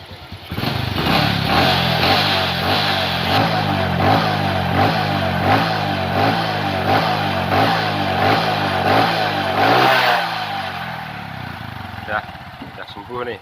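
A motorcycle engine running after a piston replacement, idling with a steady rapid putter up close and rising in repeated pulses before settling and fading, with a slight ticking from the valves and talk nearby.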